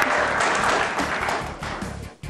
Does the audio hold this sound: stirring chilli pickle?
no